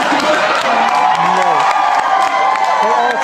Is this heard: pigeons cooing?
no